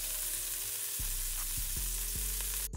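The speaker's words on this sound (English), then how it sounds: "We're gonna allow our burgers to fry before flipping it over." Burger patties fry in a pan over medium heat, giving a steady close sizzle and crackle throughout, with a few low rhythmic thumps in the background and a short clatter at the end.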